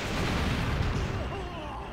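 A tank cannon booms in a video game, a sustained loud rumbling blast filling the moment with a heavy low roar.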